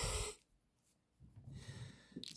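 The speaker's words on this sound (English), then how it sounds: "Blow my nose." Someone gives a short, loud nose blow at the very start, followed by quieter breathy snorts and sniffles.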